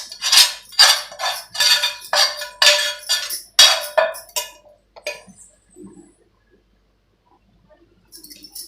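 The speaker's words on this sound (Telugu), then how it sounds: "ఇప్పుడు ఈ పోపు అంతా ఇందులో వేసుకొని వేడివేడిగా కలిపించుకోవాలండి" A metal spoon mixes tempering into amla pulihora rice in a pot, giving about eight quick rhythmic clinks and scrapes, then a short quiet stir and a faint clink at the end.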